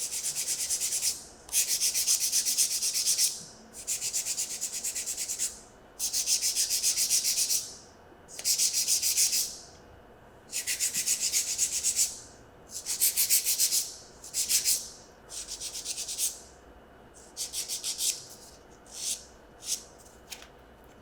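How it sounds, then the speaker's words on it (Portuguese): Nails are hand-sanded with a manual nail file, giving a steady series of close, brisk rasping strokes in regular bursts that grow shorter and quicker toward the end, with no voices. "Vou terminar o lixamento com a lixa manual."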